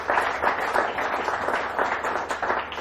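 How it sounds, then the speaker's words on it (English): Audience applauding Nikhil Kamath at an FE Yuva Unstoppable fireside chat event, a steady wash of many hands clapping that holds evenly throughout without any voices. "Can we have a huge round of applause for him?"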